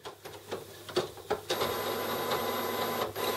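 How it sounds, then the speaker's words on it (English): The cover of an Epson WF 7210 printer opens with a few quiet plastic clicks and knocks, followed by a soft, steady mechanical whir. "Open the printer cover."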